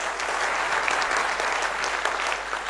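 Sustained applause from an audience at a sales or business presentation, dense steady clapping filling the whole stretch with no break, fairly loud and close.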